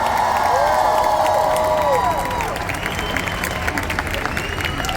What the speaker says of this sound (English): Give another round of applause for Rachel and Leah, everyone.